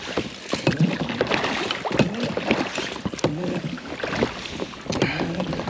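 Oars dipping and pulling an inflatable boat across Loch Etive in the Scottish Highlands, with rhythmic splashes and water sloshing close by under steady wind buffeting the microphone.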